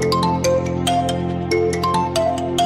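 A personalized name ringtone on a mobile phone plays a bright, repeating electronic melody of chiming tones, loud and close, with no voice.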